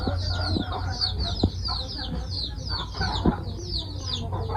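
Desi chickens cluck steadily at close range in a farm shed, with a few short sharper calls and some faint crowing mixed into the continuous flock chatter.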